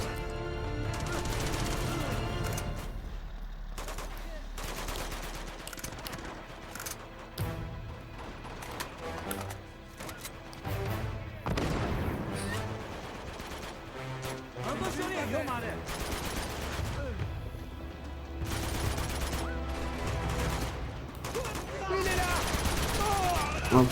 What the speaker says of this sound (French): Un magnifique tank qui nous tire dessus là.